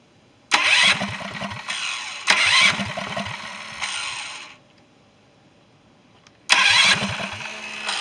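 A Duromax DB30 electric-start mini bike engine cranks in three loud, close bursts, each a rough mechanical churn lasting over a second, separated by short quiet gaps with a faint idle between.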